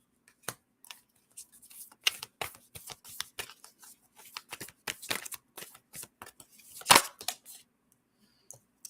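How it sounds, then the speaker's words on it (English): Oracle cards being shuffled by hand, a run of crisp riffling bursts and soft taps repeating at close range with brief pauses, one louder flurry near the end, with no voices. "I've been shuffling forever here."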